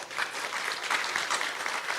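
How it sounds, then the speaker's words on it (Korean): An audience at a Korean event honoring a news outlet head gives a round of applause, a steady, dense patter of many hands clapping throughout, moderately loud and without a break. "박수 한번 주십시오"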